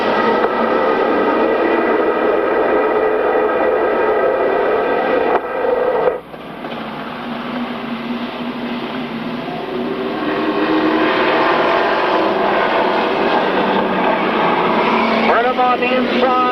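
Race cars roar around an oval track in a 15-lap qualifying race from 1995, a dense engine rush that dips briefly midway and then swells back, with a commentator talking over it throughout.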